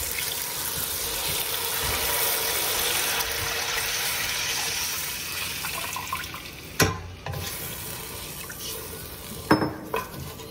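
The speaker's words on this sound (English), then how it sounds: "a pitcher of water that I'm gonna add." Water from a pitcher pours into a cooking pot of beef cubes, a continuous splashing gush that fades after several seconds and is followed by a couple of sharp clanks of the pot or utensils.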